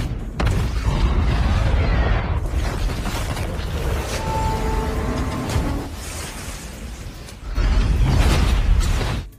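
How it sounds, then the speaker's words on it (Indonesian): A giant Jaeger robot, Striker, self-destructs in a film battle against two kaiju, giving a long, loud, rumbling blast with metallic creaks and mechanical grinding that swells again near the end, with no speech. "Marshall lalu meledakkan Jaeger Striker untuk membunuh kedua kaiju yang dihadapinya"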